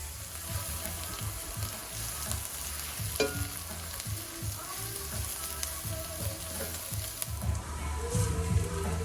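Onions and garlic fry in a pan for a fish stew, giving a continuous close sizzle with repeated low scraping and stirring strokes throughout, louder toward the end.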